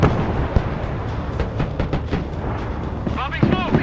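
Artillery fire in the video game Broken Arrow: a rapid run of booming blasts and thuds, loud and close, overlapping one another, with a voice talking over them.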